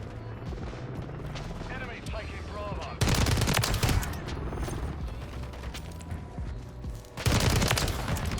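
STG44 assault rifle fire in Call of Duty MWIII, a slower, heavier-hitting automatic rifle: loud bursts of close gunfire with mechanical clatter in between, and a voice talking under part of it.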